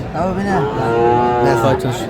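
A single loud, close cow moo, long and drawn out, with no one speaking, at a cattle market.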